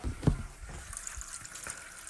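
Toilet tank filling with water through a fill valve, a faint gurgling trickle and splash running steadily, with a brief knock at the start.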